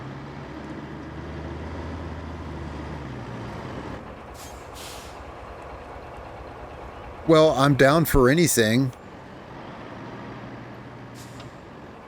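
The ALCES C400 cargo truck in Roadcraft drives through mud with a low, steady engine drone that fades down, while someone talks briefly over it.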